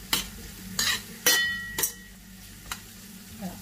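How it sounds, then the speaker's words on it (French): Food stirred in a frying pan: a series of scraping spoon strokes, close and distinct, over a soft steady sizzle, with occasional light clinks of utensil on pan. "je viens tout de même remuer de temps en temps"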